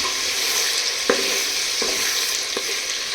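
Mutton fries in a clay pot with a loud, steady sizzle, while three distinct knocks from a stirring spoon sound at roughly even intervals; no voices.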